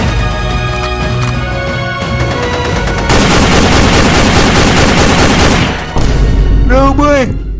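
Cartoon gunfire rings out at a border standoff in a Maithili comedy, a dense, loud, continuous volley of shots with brief breaks, mixed with talk and ending on a whooshing, swooping effect.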